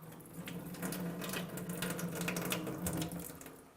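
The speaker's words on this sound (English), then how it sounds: "I'm going to rinse it out, make sure we get all that tap water out" Tap water runs steadily from a faucet into a sink while a water tester is rinsed, a close, continuous splashing hiss with small surges and no talking.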